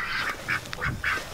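Ducks at a homestead coop give several loud, nasal quacks in quick succession, close by and unaccompanied, the calls coming in short bursts over about a second.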